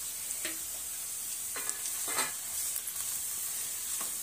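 Ginger and garlic sautéing in a pan for cashew paneer curry give a soft, steady sizzle, with a few brief scraping stirs standing out, fairly quiet and close, with no voices.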